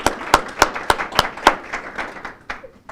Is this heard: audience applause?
yes